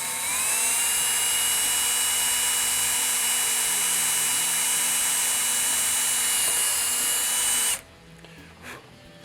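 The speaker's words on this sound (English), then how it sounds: "Drilling my hole there." A power drill with a number 6 bit bores a hole through a metal industrial vanity light fixture, a steady high whine running several seconds before cutting off abruptly, leaving faint handling clicks.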